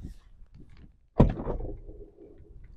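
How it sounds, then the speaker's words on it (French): Sliding side door of a VW ID. Buzz electric van rolling open with a sharp thunk, followed by a rumbling slide that fades out, heard close up with faint background noise. "Hop, j'ouvre la porte."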